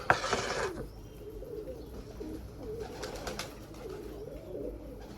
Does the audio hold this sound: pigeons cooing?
yes